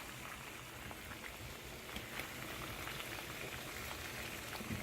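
A PSA graded card slab boiling in a pot of water, a faint steady bubbling and crackling hiss like light rain, with no voices.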